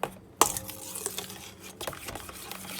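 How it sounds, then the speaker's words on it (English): Bread roll ingredients are mixed together in a bowl, with soft scraping and clinking close by, a sharper knock near the start, then faint irregular stirring noises. "So now I'm mixing all them together"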